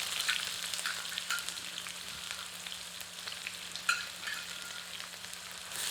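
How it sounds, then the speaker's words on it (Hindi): Onions frying over medium heat with curry leaves and fenugreek seeds make a continuous fizzing sizzle with occasional stirring scrapes and one louder crackle midway, alongside a faint steady hum. "आंच को मध्यम कर लेते हैं और प्याज को तब तक भूनते हैं जब तक कि प्याज स्वर्णित आभा से परिपूर्ण नहीं हो जाती।"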